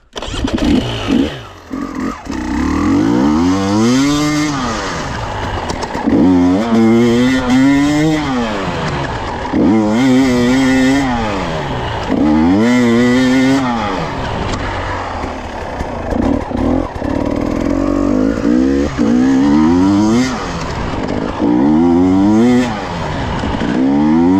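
Enduro motorcycle revving hard, engine pitch climbing sharply and then dropping as the rider brakes, repeated in several loud close acceleration-and-braking cycles over about twenty-four seconds.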